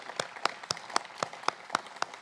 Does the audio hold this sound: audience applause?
yes